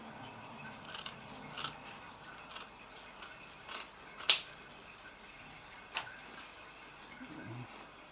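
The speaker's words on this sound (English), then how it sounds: "So I'm just going to cut that down" Scissors snip Japanese filter matting to size for a pond planter filter box, a series of faint, close, irregular cutting clicks with one sharper snip in the middle.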